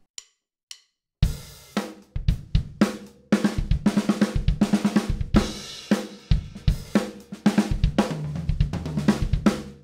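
Drum kit playing a fill grouped as four notes then two groups of six, crisp hits on drums and cymbals in a fast, steady run, loud and close with no talking.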